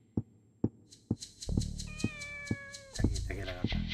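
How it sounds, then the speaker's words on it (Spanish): A kitten meowing in the Dreamcast video game Shenmue, several drawn-out mews over steady rhythmic taps and background game sounds. "It must be that kitten. She's close."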